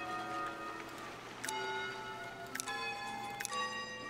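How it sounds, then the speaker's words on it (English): Bell towers in the Foundation video game ring out several clear, sustained tones at intervals over a faint steady background hum. "we now have bell towers, and you can hear them ringing"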